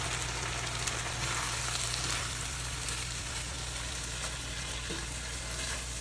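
Beef pasty filling simmering in a pan with beef stock, a steady close hissing bubble throughout, moderately loud, with no talking.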